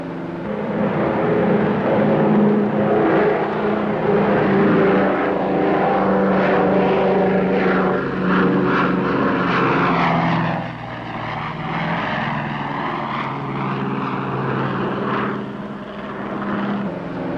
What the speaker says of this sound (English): Big as this Super-Connie is, she wants to fly right on off of there.